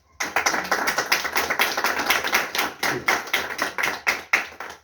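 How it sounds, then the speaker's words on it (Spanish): A group at a December novena prayer gathering claps in a rhythmic, evenly spaced pattern, with sharp, close hand strikes repeating at a steady tempo for several seconds. "A esa primera razón, por favor, dele usted un aplauso."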